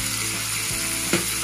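Korameenu fish frying in hot oil, a steady close sizzle with a brief clink of utensil partway through.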